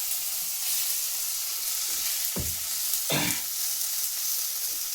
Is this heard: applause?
no